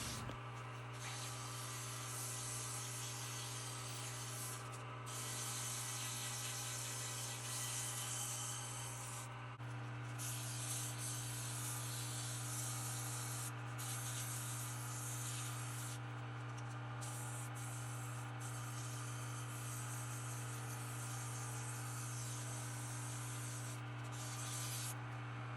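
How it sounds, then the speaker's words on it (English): Steady, continuous rubbing hiss of sandpaper working over a maple wood wand carved from a windfall branch, close and even over a constant background hum, with a few brief breaks in the strokes. "Next comes lots of sanding"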